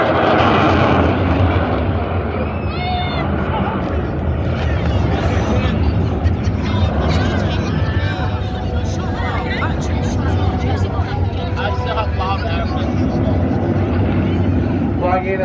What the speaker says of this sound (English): right now coming in from the right, the Royal Air Force typhoon display.